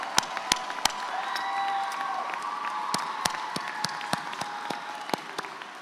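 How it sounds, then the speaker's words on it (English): High school graduation crowd applauding the class of 2026, a broad sustained roar of clapping and cheering with scattered whoops, punctuated by sharp, close individual claps throughout. "Let's take a moment to give them a round of applause."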